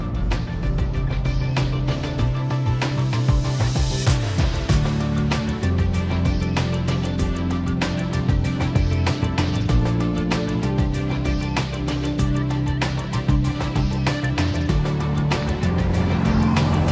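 BMW E30 Touring six-cylinder engine under way on the road, a continuous close engine drone with shifting pitch and a gear change around four seconds, fairly loud.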